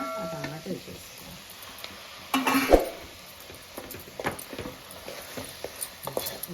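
Chopped tomato tipped into a pot of broad bean and potato curry, with a clatter of metal and lid, light sizzling and scattered utensil taps, partly under a woman's speech.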